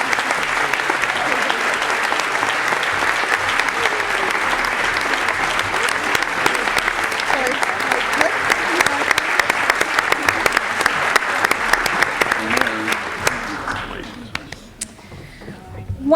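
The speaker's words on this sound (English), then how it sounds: "please join me in an additional round of applause for our Raymond S. Kellis Leadership Award recipients" Loud, sustained applause from a large audience at a 2012 Pride of Peoria awards evening honoring Raymond S. Kellis Leadership Award recipients, dense clapping throughout that thins and trails off near the end.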